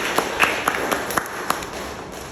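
Scattered audience applause at a fundraiser gathering, a sparse patter of claps from a modest crowd, some individual claps standing out sharply, fairly distant and fading out toward the end.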